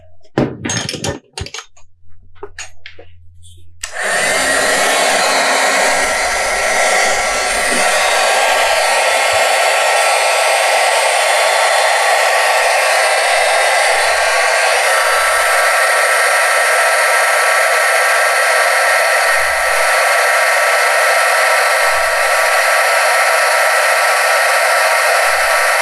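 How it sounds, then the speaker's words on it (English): A crafting heat tool blows a loud, steady hot-air whoosh while melting embossing powder, starting after a few clicks and handling noises and running continuously for over twenty seconds. "I'm gonna grab my heat tool and melt this embossing powder"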